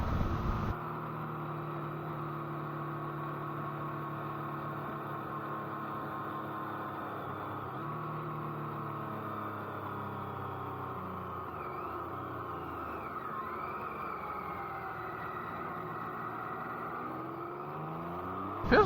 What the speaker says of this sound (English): the triple just pulls when you open the throttle